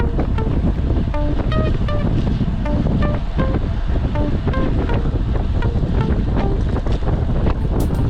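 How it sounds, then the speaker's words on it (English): Strong wind roars steadily and loudly across the microphone of a cyclist riding hunched low in an aero position on a climbing road, with a few faint tonal notes under the continuous rushing. "That wind is blowing hard"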